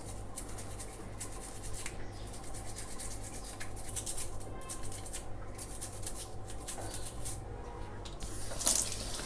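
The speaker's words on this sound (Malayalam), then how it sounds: "ബ്രഷ് ഉപയോഗിച്ച് കഴുകണം" A crab is scrubbed with a brush under a running tap to clear away mud and grit, producing a continuous rush of water mixed with soft, rough rubbing strokes, close and fairly quiet, with no talking.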